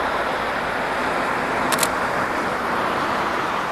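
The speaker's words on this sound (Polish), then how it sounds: "Jedzie jakiś czerwony samochód." A red car drives past on a road, a broad, loud whoosh of tires and engine that swells close by. A camera shutter clicks briefly partway through.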